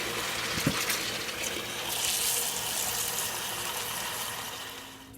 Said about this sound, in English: First, you have to put water in the pot.